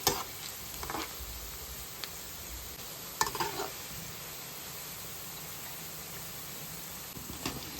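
Onion pakodi fritters fry in oil on a stove over medium flame, giving a faint, steady sizzle with a few soft clatters and bumps, no talking.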